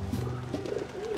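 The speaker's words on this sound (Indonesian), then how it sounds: "Kenapa ada burung ngambil kunci?" In the Valiant Hearts video game, a dove or pigeon gives soft, low, throaty coos, heard up close and alone with no talk over them.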